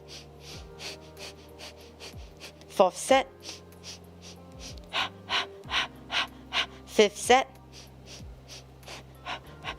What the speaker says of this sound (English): Sniff, sniff, sniff, sniff, sniff. Blow, blow, blow, blow, blow.